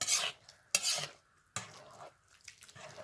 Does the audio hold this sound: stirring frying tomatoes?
yes